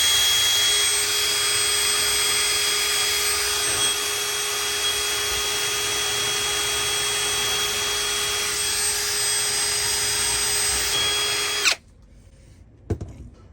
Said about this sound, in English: And using the drill is really simple as well.